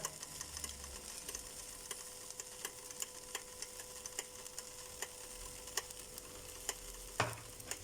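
Tomato puree being stirred into a pot of German beef goulash: soft, evenly spaced scrapes and taps over a faint low sizzle, with no talk.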